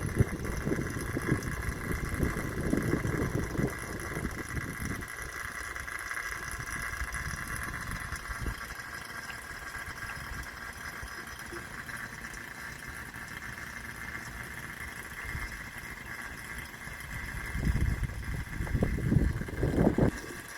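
A vacuum pump runs steadily while a car air-conditioning system is being charged, giving a continuous mid-pitched mechanical drone with a constant hum throughout, swelling slightly louder near the start and again near the end.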